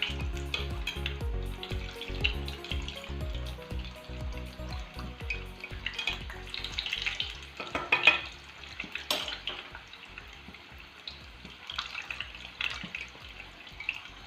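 Chicken pieces fry in a pan, a moderate crackling sizzle with scattered pops and occasional utensil knocks, no voices over it.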